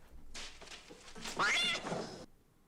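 A cat meowing close by, one drawn-out rising and falling meow with a throaty edge, lasting under two seconds in a quiet room.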